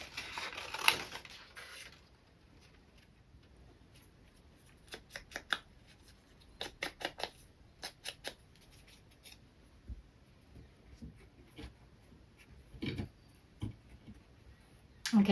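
Scissors cut through paper for a handmade steampunk journal tag, making a series of short, close snips in bursts, some with quiet pauses between them. A papery rustle opens the sequence, and nobody speaks.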